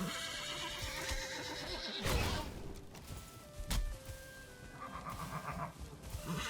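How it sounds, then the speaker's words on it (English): A horse whinnies several times in a video game, loud and close, with sharp thuds and a few soft hoof sounds between the calls. "Is that a horse?"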